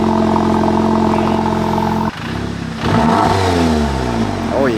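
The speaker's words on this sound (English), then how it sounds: "You want to rev a little?" A VW Golf R fitted with a Milltek exhaust idles with a loud, deep steady drone, then the engine is revved, the pitch sweeping up and falling back in rising, rumbling surges close by.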